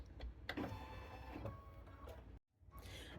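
An embroidery machine runs a basting stitch on fabric, giving a steady mechanical whirr with rapid needle clicks up close, briefly cutting out near the end before starting again.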